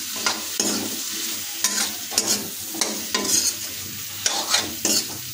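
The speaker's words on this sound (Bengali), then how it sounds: "হাতা দিয়ে নেড়ে নেব" A ladle stirs spiced mixed-vegetable paste (Bangali bata) in a pan, giving repeated scraping strokes at an irregular rhythm over a constant frying sizzle, close and fairly loud with no voices.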